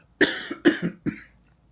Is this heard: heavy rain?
no